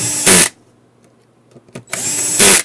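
Power screwdriver fitted with a star-shaped bit driving screws into a plastic standoff on a main board, two loud sustained whirring bursts near at hand separated by a quiet pause with small clicks.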